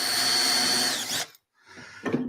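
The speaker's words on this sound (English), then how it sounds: "perfectly sized and shaped to guide the end of a self-centering drill bit" A power drill with a self-centering drill bit whines loudly at high speed into a board, winds down to silence, then briefly whirs again with a rougher, grinding tone.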